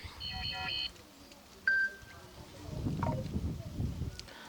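Short notification tone previews on a Samsung Galaxy S23 Ultra 5G: a bright multi-note chime near the start and a brief beep about a second later, followed by quiet handling noise and faint background murmur.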